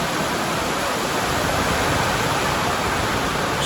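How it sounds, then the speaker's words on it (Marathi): Steady rain falls at the Marleshwar temple area in the Konkan hills, where a waterfall is nearby, making a dense, unbroken hiss that stays loud and even from start to finish. "आता पाऊस देखील सुरू झाला आहे बघा"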